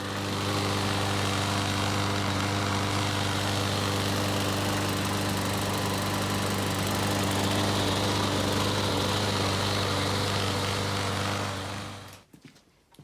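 A small lawnmower engine with a freshly hammer-straightened crankshaft runs steadily at a loud, constant drone, then cuts out abruptly near the end, leaving a brief quiet tail.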